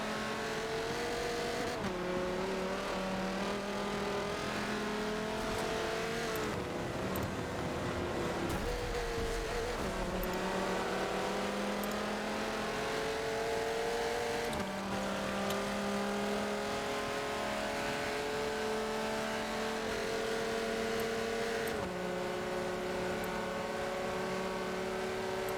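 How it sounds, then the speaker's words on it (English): Viper and Porsche race cars drag racing side by side in a racing game, engines droning loud and close with rising revs and repeated upshifts through the gears, sustained without a break and no talk. "Nice drag race going on between the Viper and the Porsche."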